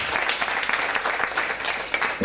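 At a poetry video competition evening in Diamante, an audience briefly applauds a guest's mother. The clapping is short and a little uneven, at moderate loudness.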